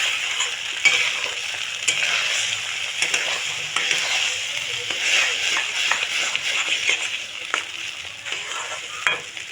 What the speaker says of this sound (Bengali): তো এর মধ্যে আমি ডিম ফেটানোটা দিয়ে দেবো। ভালো করে নাড়িয়ে নেবো।